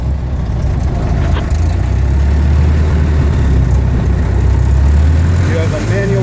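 The engine of a 1925 Dodge Brothers touring car idles steadily up close, a low continuous rumble with a slight shift in pitch near the end, while someone talks over it.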